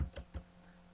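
Two or three quiet keystrokes on a computer keyboard, close and crisp, tapped in quick succession against near silence.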